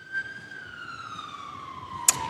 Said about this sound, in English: I can hear sirens behind you.